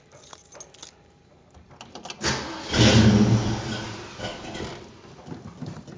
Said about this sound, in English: So let's fire it up.